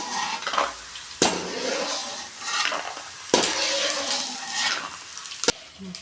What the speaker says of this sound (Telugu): ఈ నూనెలోనే మనం కరివేపాకు వేసుకున్నాం, పచ్చి కరివేపాకు.